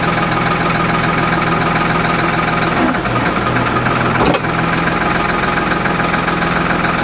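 A tractor engine idles steadily with a low, even rumble and mechanical vibration, a couple of brief clanks breaking in midway.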